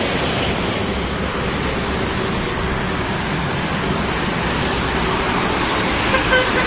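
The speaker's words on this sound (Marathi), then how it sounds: "येणाऱ्या जाणाऱ्या गाड्या. हायवे हा एक्सप्रेस हायवे." Traffic on an expressway below a skywalk bridge roars steadily between Mumbai, Thane and Airoli, a continuous broad road rumble with a faint horn toot near the end.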